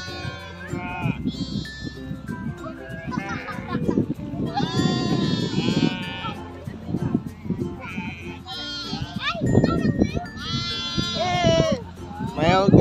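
Sheep bleat repeatedly on a hillside farm in Suoi Nghe, several animals calling near and loud in overlapping wavering cries while people talk and laugh around them.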